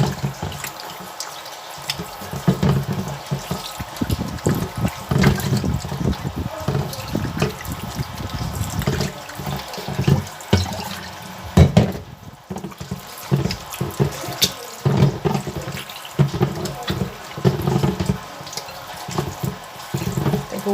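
Running tap water splashes steadily into a sink while flour dough is kneaded and rinsed under it to wash out starch for vegan chicken, a continuous near wash with uneven gurgling surges and no talking.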